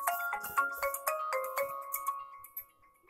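A phone ringtone plays for an incoming call in a home kitchen, a bright repeating electronic melody of quick chiming notes that rings steadily at moderate volume, then stops abruptly near the end.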